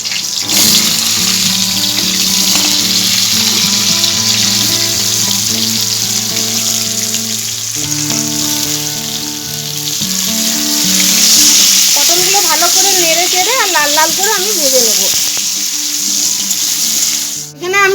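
Cut pointed gourd frying in salted oil in a pan, a loud continuous hiss and crackle that stays steady throughout, with tonal background music layered over it and no speech.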